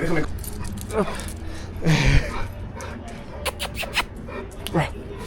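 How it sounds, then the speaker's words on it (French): A dog whimpers and gives a short yelp inside a hotel in Ecuador, amid a busy indoor background with people talking and clattering sounds. "Il y a littéralement des chiens dans mon hôtel."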